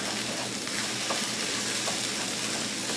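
Eggs fry in a pan of chicken fried rice, giving a steady, dense sizzle with light crackling that holds at an even level throughout.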